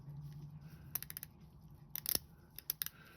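A Seiko 7549-7009 Golden Tuna watch bezel being turned gives two quick bursts of crisp, close ratcheting clicks in an otherwise quiet room.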